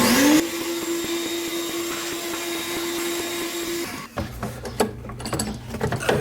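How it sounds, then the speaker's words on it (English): A vacuum cleaner drones steadily at close range, cleaning dust from an Acura TLX air intake box, then cuts off, leaving clattering and handling noises. "So I'm going to vacuum it out."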